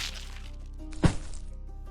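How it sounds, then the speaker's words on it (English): A sword slicing off a head lands as a single sharp, loud thwacking crack, with a brief ringing tail, set against quiet background hiss. "That's the sound of me slicing his damn head off."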